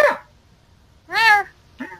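A person's voice imitates a cat meowing, giving three separate meows: a short first call, a longer, clearer middle one and a brief final one, loud and close with silence between them.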